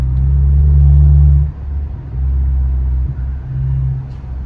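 A straight-piped BMW F10 exhaust revs hard in three loud, deep bursts, roaring for over a second, dropping briefly, then surging again close by with a heavy low rumble.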